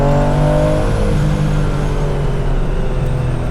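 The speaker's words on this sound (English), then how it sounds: "Driving up a bumpy road here, no squeaks, no rattles, no shimmies." A fairly new sports car built for both street and track climbs a bumpy road, its engine giving a loud, steady drone close up with no talking.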